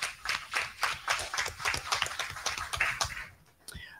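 An audience at a regular board meeting gives a round of applause for the Public Works Department staff and the mayor, with irregular claps from a modest group that thin out and stop near the end.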